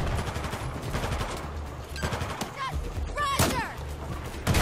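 Dense gunfire from a Battlefield 4 campaign battle rattles in rapid automatic bursts with sharp single reports mixed in, loud and continuous throughout, with voices calling out over the shooting.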